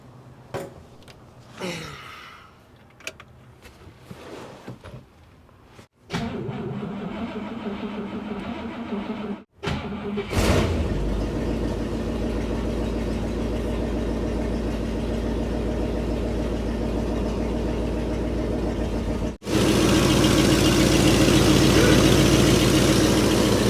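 An old Cadillac engine, unrun for over 30 years, cranks a few times, catches, and settles into a steady rough idle that grows louder, a few faint voices mixed in early.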